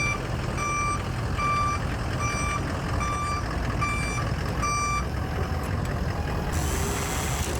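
A truck's reversing alarm beeps in an even, repeating rhythm in the pits, loud and clear over a steady engine rumble and background noise, then stops near the end.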